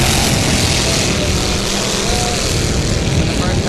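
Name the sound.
vintage racing boat engine on the water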